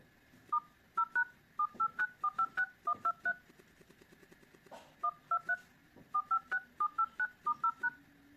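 Telephone keypad dialing tones from a Redmi Note 7 under test: short, clear beeps in quick groups of several presses with brief pauses between, close and alone.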